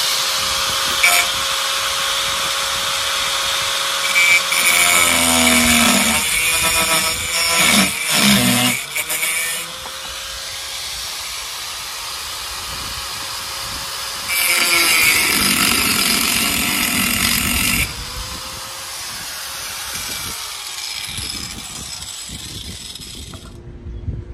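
New Dyneema lifelines for a sailboat are cut and trimmed to length with a loud, close mechanical whir that swells and fades in bursts, with sharp clicks and scraping in between.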